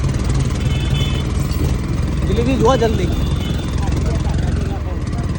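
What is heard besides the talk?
large steamer boat engine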